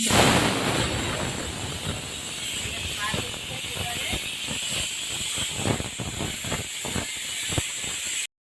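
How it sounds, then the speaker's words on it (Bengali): Jute leaves frying in refined oil, a loud hissing sizzle that starts strong and settles into crackling spatter before cutting off abruptly. "তো আগে পাট শাকটা আমি ভাজি করে নেই। এখানে রিফাইন তেল দিয়েছি।"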